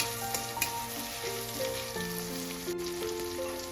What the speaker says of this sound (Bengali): পেঁয়াজটা দিয়ে আমি একটু ভালো করে ভেজে নেব